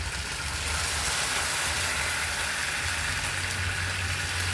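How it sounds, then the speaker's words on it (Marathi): Lukewarm water poured into a hot cooking pan on a gas stove gives a loud, steady sizzling hiss that holds unbroken throughout, with a low rumble beneath. "आता आपण त्याच्यामध्ये हे जे कोमट पाणी केलेलं आहे ते टाकूया."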